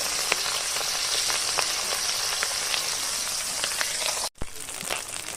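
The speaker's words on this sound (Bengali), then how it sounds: "মাছ ভাজাটা হোক।" Small khoira fish coated in salt and turmeric frying in a pan, a steady dense sizzle with scattered pops and crackles close up, briefly cut by a short gap before the hiss resumes.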